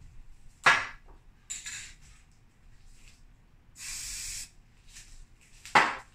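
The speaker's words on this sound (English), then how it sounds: "I use a lot of the drips with the spray paint." Spray paint can hissing onto canvas in short bursts, several sharp close blasts and one longer steady spray, with quiet pauses between them and no talking.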